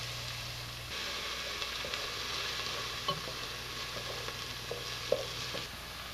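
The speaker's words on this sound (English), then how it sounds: "Saute that a little bit, and we're going to add 2 cloves worth of minced garlic as well." Vegetables and minced garlic sauté in a pan, a soft steady sizzle with occasional stirring clicks and scrapes running throughout.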